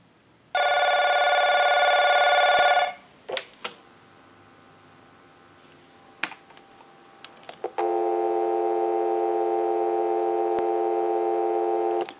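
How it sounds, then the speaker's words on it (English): A Genie phone's ring burst cuts off, followed by a few clicks and taps, then a steady continuous dial tone hums on unbroken. "we'll give you some dial tone"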